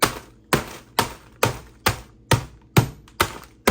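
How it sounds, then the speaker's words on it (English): A meat tenderizer hammer strikes pork rinds sealed in a Ziploc bag on a kitchen counter, eight sharp, evenly spaced thuds about half a second apart, loud and close, with crunching decay after each blow. "I take this kitchen tool, it's a meat tenderizer hammer"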